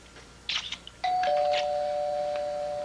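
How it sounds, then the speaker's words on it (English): A doorbell sounds with a short chime followed by a sustained ringing tone that fades slowly, heard fairly clearly in a quiet room. "it's just a doorbell"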